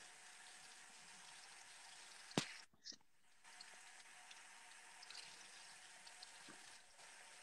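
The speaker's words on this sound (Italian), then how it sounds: "chiudo l'acqua, raga. Ho finito di lavare i piatti." Running tap water hisses softly and steadily as dishes are washed in a sink. Sharp clinks and a short gap break the flow early on, and then the faint stream carries on.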